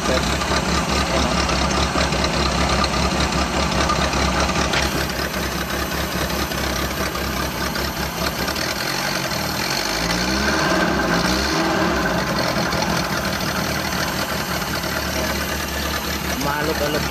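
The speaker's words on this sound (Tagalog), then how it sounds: "Vibrate yung makina. Vibrate lang siya." A vibrating, slightly shaky engine idles loudly and unevenly with a steady rumbling knock, its pitch rising and falling as the accelerator is blipped midway through.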